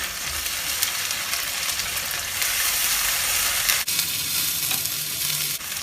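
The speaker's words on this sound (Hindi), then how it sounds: "तो यहाँ मैं प्याज को हल्का गोल्डन कर लूंगी" Onions fry toward golden in a pan, a dense, close, bright sizzle that runs steadily throughout with faint stirring scrapes and one brief dip near the middle.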